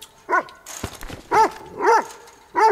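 A dog in the video game Nobody's Left gives four short, sharp barks with brief gaps between them, close and clear, with a faint whimper and shuffling noises in between.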